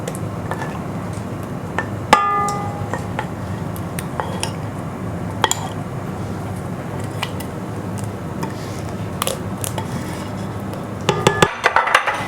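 Banana pudding mix going into cream, then stirred in a bowl, giving scraping clinks of a utensil against the bowl, close and fairly loud, with a sharp metallic clatter near the start and a quicker burst at the end.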